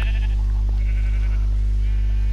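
A sheep bleating in Minecraft: a nasal bleat rises and falls over a loud, steady low hum that runs under the whole clip.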